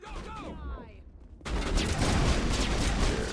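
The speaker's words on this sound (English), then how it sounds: "It's not a single shot though, it's a burst shot, which is still better." Burst-fire rifle shots in the sci-fi shooter Mass Effect on Kepler Verge, a loud sustained rattle of gunfire and impacts that cuts in abruptly after a brief tonal, electronic-sounding stretch and runs continuously to the end.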